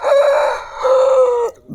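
A rooster in a mango orchard crows loudly and close by, one long drawn-out call lasting over a second, followed by a brief cluck.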